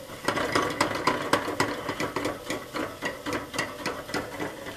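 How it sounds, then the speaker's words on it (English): Eggs whisked for a French omelet: a steady run of quick, close clicking strokes of a whisk or fork against a bowl, repeating evenly through the whole stretch with no talking. "Whipping the eggs like this to get them really cooked"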